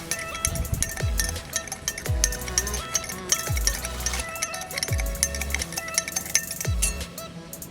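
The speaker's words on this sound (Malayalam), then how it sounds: "ഇനി നമുക്കതൊന്ന് മിക്സ് ചെയ്ത് കൊടുക്കാം." A mixture of potassium permanganate and water is stirred in a glass, with repeated light clinks and soft knocks at a loose, regular pace, close by and moderately loud.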